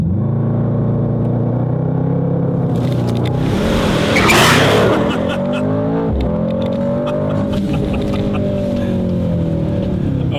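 A Mercedes-AMG launches at full throttle in race start mode, its engine note climbing loud and close through rising harmonic sweeps, with a gearshift break midway before it keeps pulling hard.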